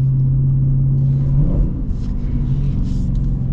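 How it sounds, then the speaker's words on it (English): A Dodge Challenger Scat Pack with a 6.4-liter Hemi V8 and manual gearbox gives a deep, loud rumbling rev, the engine note holding steady and then dipping and settling into a throaty idle, close to the car. "Love the muscle car sound, like the V8 sound."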